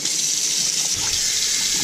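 Tap water gushes steadily into a pot holding a whole raw chicken in a kitchen, a loud continuous rush close by.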